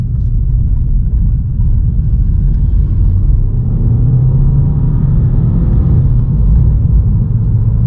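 A Volkswagen Scirocco's engine drones steadily while driving, a loud, deep, continuous rumble heard from inside the car, with the pitch rising slightly as the revs climb.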